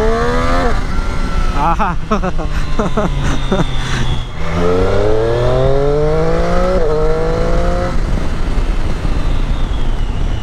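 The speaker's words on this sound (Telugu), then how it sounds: "దీని ఎగ్జాస్ట్ సౌండ్ ఉంటుంది కదా, ఆహా ఎంత బ్యూటిఫుల్ ఉంటుంది." Triumph Street Triple motorcycle engine and exhaust revving up through rising gear pulls during a short drag run, loud and close, with a brief voice exclaiming over it.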